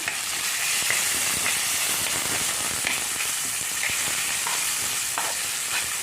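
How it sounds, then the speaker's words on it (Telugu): Halved green chillies fry in hot oil for a gongura pickle, producing a dense, loud, continuous sizzle with scattered crackles and pops, close and steady throughout. "ఈ పచ్చిమిరపకాయలు వేసేసి ఒకసారి వేయించాలి"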